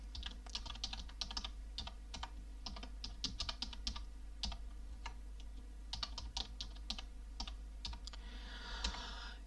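Someone types on a computer keyboard, a quick run of close, crisp key clicks in irregular bursts with short pauses, over a steady low hum and with no speech.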